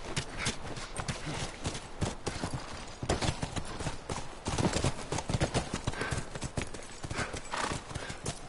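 Horses clip-clop in The Last of Us Remastered video game, a dense, continuous run of hoofbeats with an occasional whinny, steady and moderately loud.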